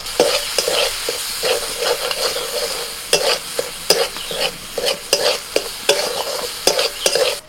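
Ground masala of turmeric, cumin, coriander and red chilli powder being stirred and fried in a pan, a steady sizzle broken by repeated scraping strokes of the spoon at an uneven rhythm, close and alone.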